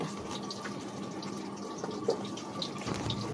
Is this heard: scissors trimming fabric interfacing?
no